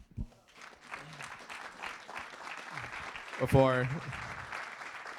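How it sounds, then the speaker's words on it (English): Audience applause follows a panel discussion at a travel and mobility forum, faint scattered clapping heard low under a voice speaking at the front. "Thank you, everyone, for attending the panel. Thank you. And hands to everyone."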